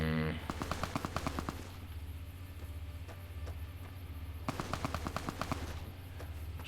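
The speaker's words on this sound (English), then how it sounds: "Should probably get away from that gunfire." Automatic gunfire in Fallout: New Vegas, rapid bursts of shots crackling in two clusters near the start and again later, over a steady low game ambience hum.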